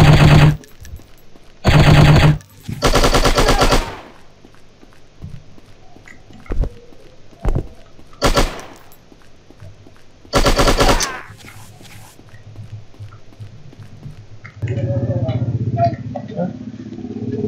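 Machine guns fire in the shooting game Striker: several loud rapid-fire bursts separated by quieter gaps with scattered single shots, ending in a longer stretch of low rumbling noise.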